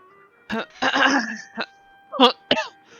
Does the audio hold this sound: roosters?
no